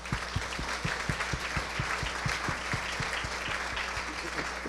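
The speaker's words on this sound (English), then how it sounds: "So if we could all just give them a round of applause." An audience at a charity event applauds its sponsors, sustained clapping from a fairly large crowd at moderate distance with rhythmic claps standing out from the wash.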